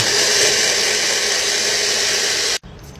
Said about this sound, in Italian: In un mixer prezzemolo, sale, pepe e aglio e frulliamo.